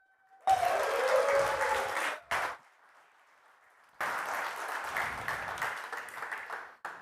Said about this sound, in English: round of applause for Scott.